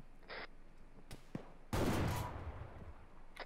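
Gunfire in the military shooter ARMA 3: a few sharp isolated shots, then a loud broadband burst around the middle that decays into rumbling ambience, with faint later cracks; no talking.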